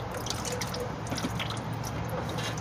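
Transmission fluid drains from a Toyota Camry during a flush, a faint continuous trickle with scattered drips.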